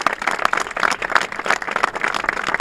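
A crowd at the inauguration of municipal swimming pools and a sports complex in Gumiel de Izán claps in a lively, close, uneven burst of applause.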